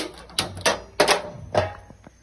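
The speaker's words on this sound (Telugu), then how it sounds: "ముందుగా గ్యాస్ని ఆన్ చేసుకొని" A gas stove is switched on in a home kitchen: four or five sharp, close clicks from the knob and igniter come at uneven intervals over a quiet background.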